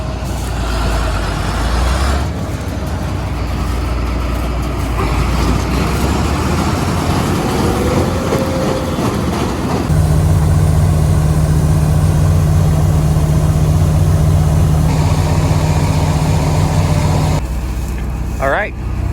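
A grain truck's diesel engine runs loudly and close during a wheat harvest, with a steady low rumble that deepens into an idling drone partway through and a brief hiss near the end.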